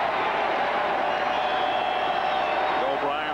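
A football crowd at Mile High Stadium during a 1985 Dolphins at Broncos game makes a dense, steady roar throughout, with a broadcast announcer talking over it.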